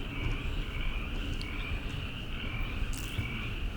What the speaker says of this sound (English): these frogs are croaking